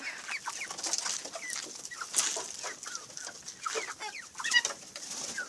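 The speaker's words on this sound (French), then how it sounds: "là il y a la poupoule. Magnifique poupoule. Et le coq qui est juste là" Hens and a rooster kept as backyard poultry cluck continuously nearby, a busy overlapping chatter of short clucks and occasional louder calls.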